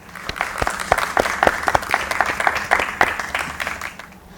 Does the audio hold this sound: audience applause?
yes